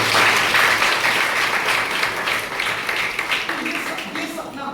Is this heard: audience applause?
yes